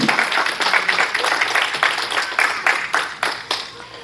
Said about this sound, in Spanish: ¿Cuántos dicen amén a eso y le dan un aplauso fuerte a Cristo?